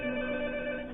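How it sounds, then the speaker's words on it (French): A telephone rings on another line: one sustained electronic ring tone, steady and clear, heard alone for about a second. "Non, là, malheureusement, c'est le téléphone sur une autre ligne."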